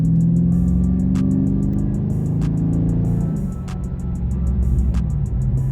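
A 2021 Dodge Charger 392 Scat Pack Widebody engine roars under hard acceleration, its pitch climbing steadily, dipping briefly at a gear change, then rising again, loud and close.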